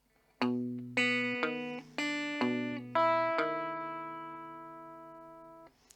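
A guitar plays a rockabilly solo line over an alternating bass. Picked notes come in a few clean, ringing phrases, and the last chord sustains and slowly fades. No one speaks.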